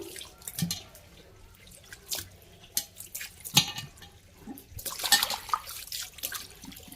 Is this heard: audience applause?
no